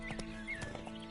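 A horse in The Witcher clip-clops along in a quick, steady rhythm of hoofbeats, fairly faint, over a tonal game soundscape.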